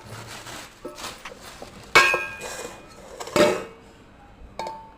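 Stirring and mixing ingredients in a bowl, with irregular clinks and scrapes of a utensil against metal dishes, several sharper knocks standing out amid quieter shuffling kitchen sounds.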